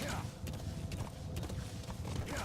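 Rhythmic clip-clop of hooves from D-Horse galloping in a video game, repeated quick beats over a steady backdrop, with a voice talking over it.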